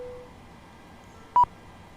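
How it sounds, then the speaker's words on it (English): The GSX ground services add-on in a PMDG 737 flight simulator gives one short, clear electronic beep against a quiet cockpit background hum. "That's GSX beeping at me."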